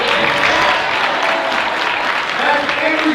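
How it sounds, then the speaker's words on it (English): A high school assembly crowd of students stands and cheers for the freshman teachers, with dense, loud applause and clapping holding steady throughout. "That's every student getting up and cheering."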